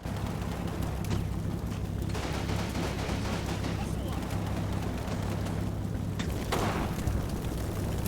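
Bursts of MG42 machine gun fire in the Combat Mission: Final Blitzkrieg war game, rattling amid a dense, continuous battle din with rumbling vehicle noise throughout.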